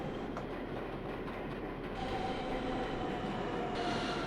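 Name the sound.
NYCT R160 subway train running, from video game OpenBVE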